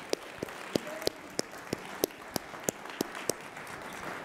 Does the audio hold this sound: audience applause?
yes